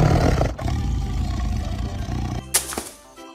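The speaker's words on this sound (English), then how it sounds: "Tiger." A tiger roars loudly and close, a long rough growl that fades and ends with a brief sharp snarl, heard on its own in a kids' zoo-animal toy lineup.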